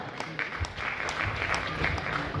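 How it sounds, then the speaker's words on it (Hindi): Audience applause welcoming a speaker onto a stage, a steady wash of clapping that holds evenly for the whole stretch at a moderate level. "करताली जरिए स्वागत करंतु मंच वर्ग निवेदिता मैडम को वाओ"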